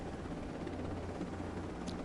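A helicopter flies in a flight game, its steady low rotor and engine drone holding as a continuous, even hum for the whole moment, with no talking over it.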